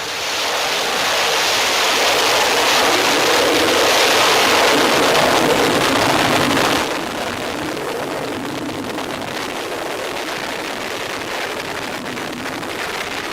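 Astra rocket engine roaring at ignition and liftoff of the company's first launch, a loud continuous broadband rumble and roar that swells for several seconds, then drops to a steadier, somewhat quieter roar as the rocket climbs away.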